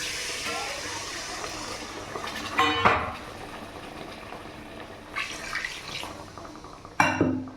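Water poured into a pan of fried spices for doi katla, a sharp sizzling splash near the three-second mark and another at seven seconds, amid steady kitchen background noise without talking.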